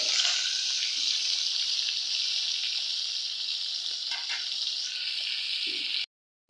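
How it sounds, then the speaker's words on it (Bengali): Jatka, young hilsa fish, frying in a pan with a loud, steady, hissing sizzle and a couple of faint clinks near the end, close up, before the sound cuts off abruptly. "তো মাছগুলো এখন আমি উল্টাই দেবো, আর বেশি ভাজবো না"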